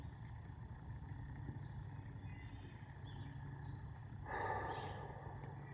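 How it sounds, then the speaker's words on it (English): Faint, steady hum of distant road traffic drifting up to a wooded mountain top at night, a continuous low rumble with one brief louder swell of a passing vehicle near the end. "even at the top of this mountain, I can still hear traffic"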